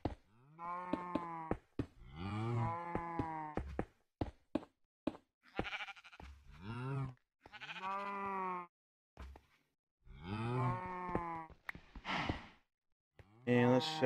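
Cows in the Minecraft video game moo repeatedly, a string of drawn-out, pitched bellows with brief pauses between them, loud and close with no talking.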